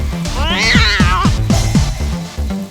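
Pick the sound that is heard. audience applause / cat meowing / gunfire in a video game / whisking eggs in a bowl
cat meowing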